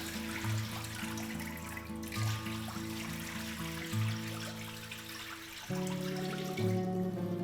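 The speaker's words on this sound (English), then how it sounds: "We'll just drain all that water out." Dirty rinse water drains and pours from a bowl of freshly washed mudfish, a steady running-water wash with splashy pulses, close and moderately loud, with no talk.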